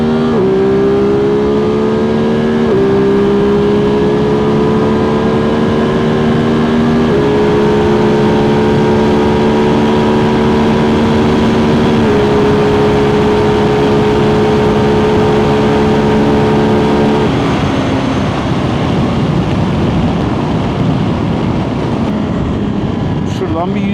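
A Ducati Multistrada V2S motorcycle, freshly in its break-in period, accelerates hard and close by, its engine note climbing in a series of gear changes before easing off near the end.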